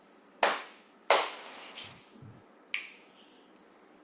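A few sharp snaps and claps from an audience at a town hall, two strong hits close together, then scattered softer snaps and taps, fairly near in a quiet room.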